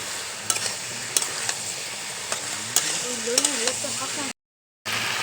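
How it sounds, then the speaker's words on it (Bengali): Spices such as turmeric and chili powder being stirred in a hot frying pan while cooking fish-head and Malabar spinach curry, with a continuous sizzle, a few sharp scrapes of the spatula and a brief pause near the end. "এবার আমি নেড়ে দেবো।"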